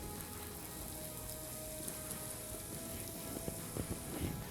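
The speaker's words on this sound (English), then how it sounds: "we're going to add in the chopped onions" Chopped onions sizzle in hot oil with browned garlic in a pan, a steady, faint, hissing crackle with a few slightly louder pops near the end.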